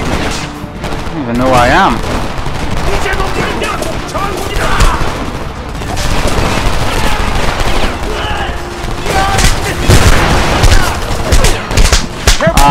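Shotgun gunfire from the Homefront video game rings out in loud, repeated blasts amid a chaotic firefight, with bursts spread across the span and someone talking briefly over the shooting.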